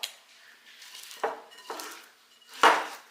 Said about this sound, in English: Mix that in with our butter,